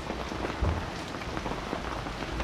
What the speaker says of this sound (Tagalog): Umuulan, magdamag.